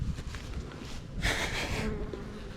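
Honey bees swarm in a dense, steady buzz around an opened hive holding frames of brood, close and continuous, swelling louder midway through.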